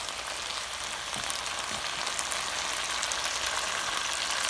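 Onions and a little chopped pepper softening in a pan for Spanish sofrito, giving a steady, close, even sizzle of frying that runs unbroken and alone throughout.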